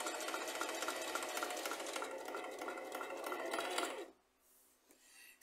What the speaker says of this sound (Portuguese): a gente vai costurar alguns pontos para ficar bem firme aqui